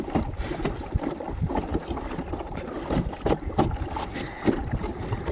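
A coracle, a round basket boat, rowed across open water toward an island temple, giving steady irregular splashing and paddle strokes over a broad outdoor wash of water and light wind, fairly close and with no talk.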